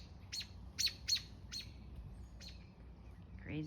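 A small bird gives a handful of sharp, separate chirps close by in a quiet room, followed by a brief squawk at the end.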